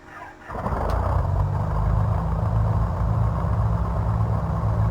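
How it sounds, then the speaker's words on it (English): Left engine of a Piper PA-44 Seminole twin in Microsoft Flight Simulator cranks briefly, catches and settles into a steady, loud, low droning idle that runs on without talk. "Turn the recognition lights on"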